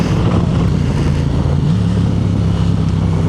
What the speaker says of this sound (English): that aero exhaust sounds so good